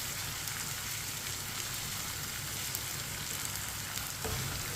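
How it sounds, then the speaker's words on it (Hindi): Ginger and garlic fry in a pan over a medium flame, a steady close sizzle that stays even throughout, with a brief scrape of a stirring spoon near the end. "अदरक और लहसुन को मैंने मिक्स कर लिया है। इसे 1 मिनट के लिए पका लेंगे चम्मच लाते हुए।"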